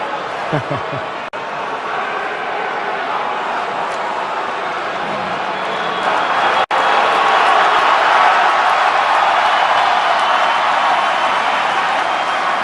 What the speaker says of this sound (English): Here's the crowd reaction to Warriors owner Joe LAKEY being introduced during Chris Mullin's jersey retirement.